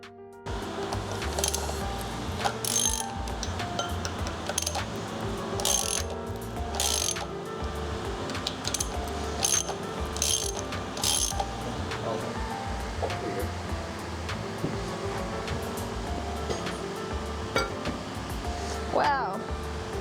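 Ratchet clicking away at engine bolts during removal of a K24 engine swapped into a Mk3 Supra, steady close mechanical ratcheting in repeated bursts over a continuous background of clinks and shop noise.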